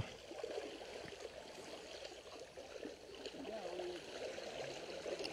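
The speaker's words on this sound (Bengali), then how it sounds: "পানির শব্দ হালকা হালকা শোনা যাচ্ছে।" Water flows softly in a rural stream near Tetulia, Panchagarh, a faint, steady trickling murmur at low level under the open-air ambience, with no clear speech.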